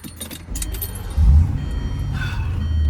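A 2008 Range Rover Supercharged L322 drives along with a steady low engine and road rumble heard from inside the cabin, swelling briefly and carrying keys jangling lightly.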